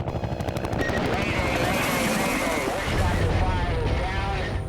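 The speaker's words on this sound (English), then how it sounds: "They're taking heavy fire from all over the LZ." Dense, continuous heavy gunfire with rapid automatic bursts, mixed with helicopter engine and rotor rumble, loud throughout, at a Vietnam War landing zone under fire.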